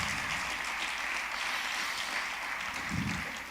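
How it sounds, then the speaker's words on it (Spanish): Church congregation applause fills a sermon hall as a dense, steady wash of clapping that holds at moderate loudness for a few seconds, with a brief low thump near the end. "Dale un aplauso fuerte al Rey de Reyes"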